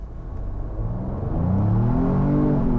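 A 2022 Ford Bronco 4-Door Wildtrak's engine pulling hard at full throttle, rising in pitch and loudness as it accelerates up through the revs, close and steady with no talk.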